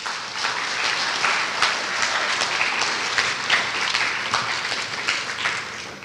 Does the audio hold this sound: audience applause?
yes